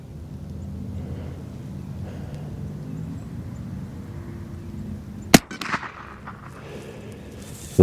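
A single sharp report from a Savage .22LR rifle firing factory ammunition downrange cracks out close and loud after several seconds of quiet outdoor background, with a second crack just at the end.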